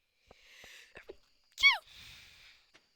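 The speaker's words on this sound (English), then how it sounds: "I sneezed." A single sharp sneeze bursts out mid-clip, loud and close, between quieter breathy noises and a few small clicks.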